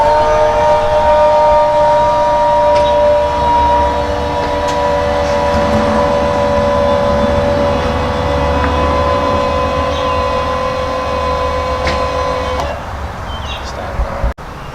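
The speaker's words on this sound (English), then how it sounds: "So I'm going to hit the front button, and it's going to raise the fifth wheel up." Electric motor of the front landing gear on a Grand Design Reflection 367BHS fifth wheel camper raising the front, a steady loud mechanical whine with a hum that runs for most of the clip before cutting off.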